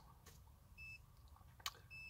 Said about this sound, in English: that beeping noise you hear is my jumper box dying.